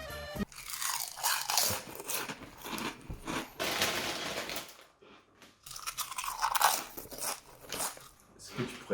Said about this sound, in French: Est-ce que tu pourrais mâcher moins fort?